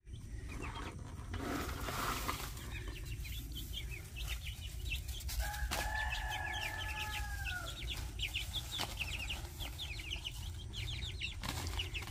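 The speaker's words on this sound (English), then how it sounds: "Happy chickens." Backyard chickens in a garden beside tomato and asparagus plantings, with soft clucks and short calls scattered over steady outdoor background noise, moderately close and without speech.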